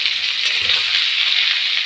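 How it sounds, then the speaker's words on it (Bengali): Potatoes, onions and green chillies fry in hot oil with a steady, bright sizzle that stays close and constant throughout, with no talking. "আলুগুলো দিয়ে দিয়েছি আলুর সাথে সাথে এই যে পেঁয়াজ আর কাঁচা লঙ্কাটাও দিয়ে দিলাম এটাও ভাজা ভাজা হয়ে যাক"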